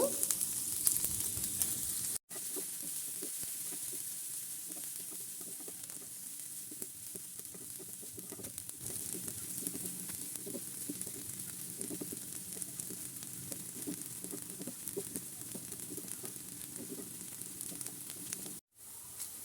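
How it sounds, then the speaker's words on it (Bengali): Finely chopped onions and dried chillies crackle in hot oil, frying toward crisp; a steady, fairly quiet sizzle persists throughout with light stirring clicks and no talking. "কুচি কুচি করে পেঁয়াজ শুকনো মরিচ একটু ভেজে নেব ভালো করে বেরেস্তার মতন করে ভেজে নেব"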